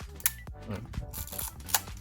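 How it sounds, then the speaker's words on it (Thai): Yashica Electro film camera shutter cocked and released: crisp mechanical clicks and clacks, a sharp snap near the start and another near the end with small ratcheting sounds between, close by. "ขึ้นชัตเตอร์และกดชัตเตอร์"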